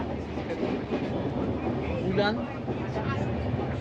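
A passenger train runs past Thana Junction, a steady rolling rumble with faint clattering, heard from on board with a voice murmuring briefly underneath.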